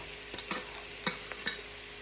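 Vegetable fried rice stir-fried in oil in a pan sizzles softly, with several light scraping and clinking stirs of a utensil at irregular intervals.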